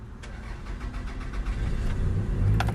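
A Toyota Camry engine with 115,000 miles, left sitting six years, cranks and catches, then settles into a steady, low idle with a slight rise in rumble.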